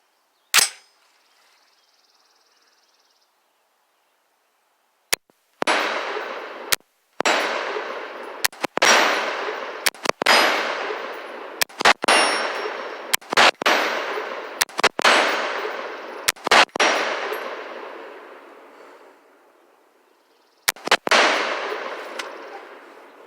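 A string of single AR rifle shots fired with Hornady ammunition at a range, each a sharp loud crack with a ringing decay, spaced a second or two apart with a few quick doubles, after a long quiet gap.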